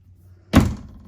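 A cabinet door in the kitchen of a 2021 Vibe 26RK rear-kitchen travel trailer shuts with one short, solid thunk up close, then quiet.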